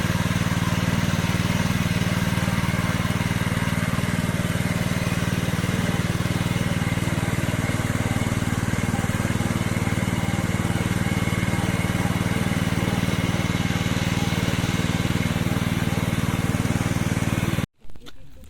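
A tractor engine drones steadily while ploughing a field during the monsoon planting season in Konkan, a loud continuous close rumble that cuts off abruptly near the end.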